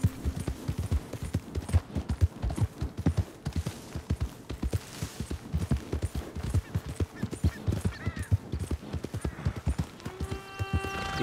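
Horse hooves in Red Dead Redemption 2 keep up a steady, fast clip-clop gallop rhythm throughout, loud and close, with a brief whinny-like tone near the end.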